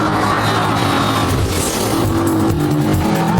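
A Vauxhall-badged Holden runs steadily on a race track, its engine a continuous loud drone with a faint tire hiss and no pauses.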